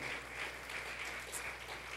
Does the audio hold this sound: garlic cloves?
no